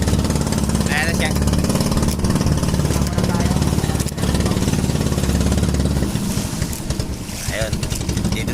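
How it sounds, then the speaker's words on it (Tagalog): A fishing boat's engine runs with a loud, steady chugging drone close by, shifting to a rougher, lower throb near the end, while people talk over it. "Patigil-tigil yung makina namin."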